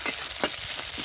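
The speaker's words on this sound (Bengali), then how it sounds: "আর একটু ভেজে নেব।" Crushed ginger and green chilli paste fry in hot oil with a bright, steady sizzle, broken by a few soft stirring scrapes, close by and fairly quiet, and no one speaks.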